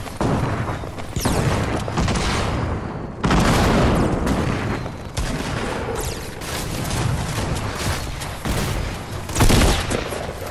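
Rapid bursts of grenade launcher explosions and gunfire in a Fortnite match, loud and dense, with booms stacking over sustained firing and a stronger blast partway through, no talk.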